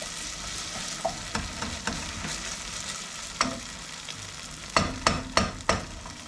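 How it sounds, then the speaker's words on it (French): Onion and tomato paste searing in a hot pan while a utensil stirs it, a constant sizzle broken by scraping strokes and a cluster of sharper knocks near the end, close and alone. "c'est histoire de le mélanger et saisir le concentré de tomate"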